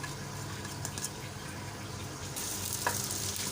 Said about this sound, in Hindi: यहाँ पे प्याज को गोल्डन ब्राउन होने तक हम इसको चूल्हे के ऊपर चढ़ा के पकाएंगे ऑयल के अंदर